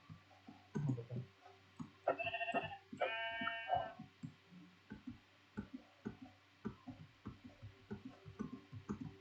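A sheep bleats in Minecraft, two short wavering calls in the middle, amid a steady stream of small in-game clicks and footstep ticks, with no talking.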